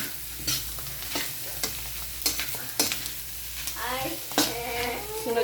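Dinuguan is stirred in a pan, with a spoon scraping and knocking in irregular strokes over a soft bubbling sizzle, close by with no one speaking.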